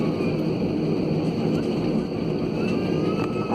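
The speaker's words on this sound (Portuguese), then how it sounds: "Aí ele vai decolar agora." A fixed-wing airplane's engines roar steadily and loudly at São Luís airport as it prepares for takeoff, a continuous broad rumble with a faint whine above it.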